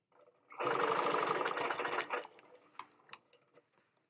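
A Handi Quilter Moxie longarm quilting machine stitching a quilt, with a loud, rapid mechanical chatter that runs steadily for about a second and a half, then tapers off into scattered ticks and clicks as it slows and stops.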